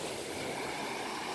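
Black Sea waves rolling onto the shore on a morning beach near Anapa, a continuous broadband rush of surf with wind, steady and fairly close.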